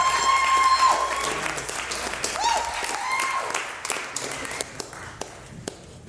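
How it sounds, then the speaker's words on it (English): Applause from a jazz concert audience for the drummer, a dense burst of many hands clapping that starts loud and slowly thins out over several seconds, with scattered taps toward the end. "Give her one round of applause."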